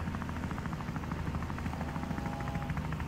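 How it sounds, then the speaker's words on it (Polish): A helicopter in a video game gives a faint, steady rotor thrum with an even, rapid chopping pulse that runs throughout, with no talking. "Ty chcesz rozpieprzyć bałwana helikopterem?"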